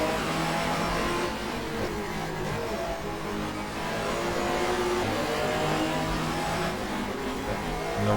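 A 1994 German touring car revs hard through an upshift into third gear in the GTR2 racing game at the Nürburgring, its engine a sustained, steadily climbing mid-pitched drone heard close and unbroken, with no speech.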